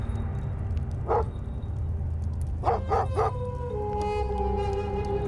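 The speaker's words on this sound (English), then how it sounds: "the dogs will remain on guard, ready to defend the flock at a moment's notice" Big, strong guard dogs watching over a shepherd's flock at night in a Middle Eastern desert bark in several sharp bursts, a single bark then a quick run of three, followed by a drawn-out howling tone, at moderate distance over steady background noise.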